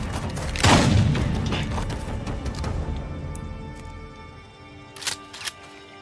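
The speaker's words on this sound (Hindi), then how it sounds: "गोलियां चलनी शुरू हो गई हैं." Gunfire in the video game Days Gone: a loud booming shot near the start with a thudding low-end tail, then two sharper, quieter cracks near the end over a steady game backdrop.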